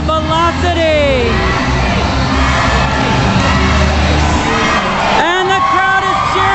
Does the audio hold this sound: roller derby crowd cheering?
yes